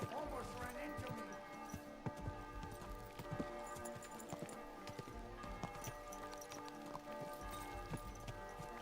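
Horse hooves clip-clop at a walk in the video game Kingdom Come Deliverance 2, a soft, steady rhythm of hoofbeats under game music and ambient sound.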